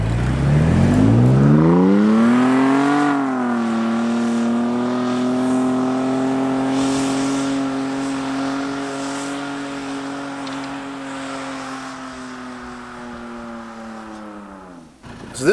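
A truck engine with lockers engaged revs hard while plowing through deep snow, a loud sustained drone that climbs in pitch, then holds steady at high revs before cutting off abruptly.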